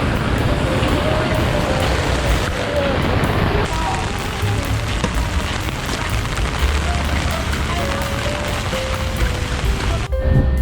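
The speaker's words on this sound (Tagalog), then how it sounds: "Grabe, lumakas na naman yung ulan." Heavy storm rain pours steadily in Taiwan, a dense continuous wash of noise with low rumbling, loud and unbroken throughout, with faint voices and tones underneath.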